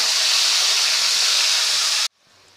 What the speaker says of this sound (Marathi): आता हे वाटण आपल्याला दोन मिनटे तेलामध्ये परतून घ्यायचं आहे